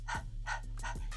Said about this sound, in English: Open your mouth, put your tongue slightly out, and start panting like you would visualize a dog panting.